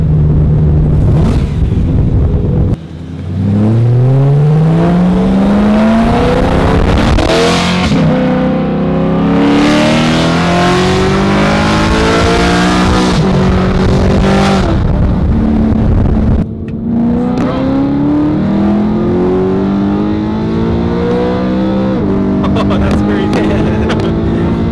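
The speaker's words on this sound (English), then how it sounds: "I'm hopping into Gabe's car, the wide body M3. I'm gonna go for a drive" A 2011 wide-body BMW M3 pulls hard while driving, its engine note sweeping upward through several gears in repeated surges, loud and close from inside the car, with a brief lift-off between pulls.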